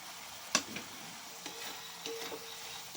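Bottle gourd with fried prawns is stirred in a pan, giving a soft steady sizzle with a sharp clack of the spatula near the start and a few lighter scrapes after, close and quiet.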